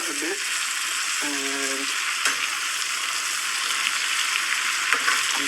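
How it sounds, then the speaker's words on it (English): Food simmers and sizzles in a pan with a steady, bright frying hiss throughout, and a short spoken word is heard partway through. "As you can see, it can simmer a bit"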